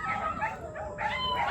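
Several dogs at a home animal sanctuary give continuous overlapping howls and yips, a loud steady chorus of canine voices filling the short stretch with no talk.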